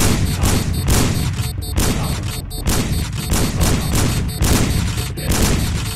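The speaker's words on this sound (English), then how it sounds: "Guns blazing. Let's do this." Dense, continuous video-game gunfire in the stealth heist game Sneak Thief, rapid overlapping shots and bursts forming a loud fusillade throughout with no speech.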